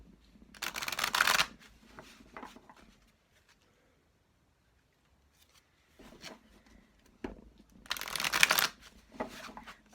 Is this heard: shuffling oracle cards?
yes